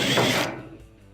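Screws are removed from the front panel of a clothes dryer with a nut driver, giving a brief, close burst of mechanical ratcheting that stops abruptly and is followed by quiet.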